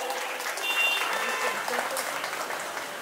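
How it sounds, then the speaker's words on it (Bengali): A crowd at a Nabami evening programme claps for Dr. Chinmoy Karmakar, a dense, even wash of applause that holds steady throughout with faint voices mixed in. "ডক্টর চিন্ময় কর্মকারের জন্য একটি জোরে হাততালি হয়ে যায়"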